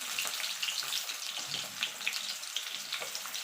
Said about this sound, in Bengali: এবার আলুটাকে আমি একটু নাড়াচাড়া করে নাড়িয়ে নেব।